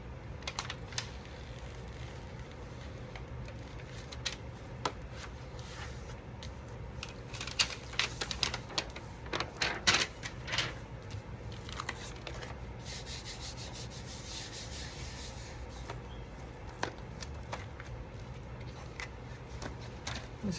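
Scissors cutting the corners of a FedEx envelope at close range, with quiet snips, rustling and rubbing of the paper over a steady background hiss.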